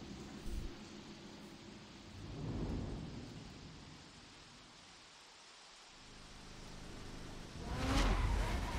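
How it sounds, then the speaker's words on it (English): Rain and thunder in The Crew racing game: a faint steady hiss of rainfall with low rumbling thunder swelling twice, once softly early on and again more strongly near the end. "It's still raining."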